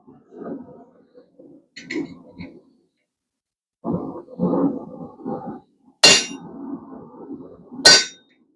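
A steel chisel is hammered while cutting hot steel during blacksmith work on a hot dog fork: two loud, sharp ringing blows about two seconds apart follow a stretch of low, muffled shuffling and knocking.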